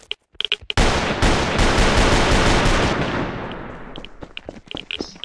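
A Thomson machine gun fires a long, loud burst of rapid automatic shots in the survival video game Rust, preceded and followed by a few single clicks and shots.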